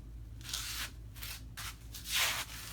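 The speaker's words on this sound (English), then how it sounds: "Hear that shuffling?" Soft scraping shuffles sound close by, several uneven swishes of feet dragging across a floor with short pauses between them.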